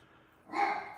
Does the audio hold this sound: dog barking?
yes